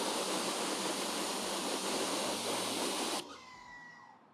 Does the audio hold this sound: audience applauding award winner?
no